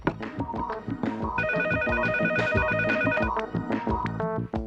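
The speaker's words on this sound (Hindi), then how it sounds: "मैं निक्की को फोन ट्राई करता हूँ।" A telephone rings with a repeating electronic tone pattern, loud and close, cycling steadily for several seconds with no voices.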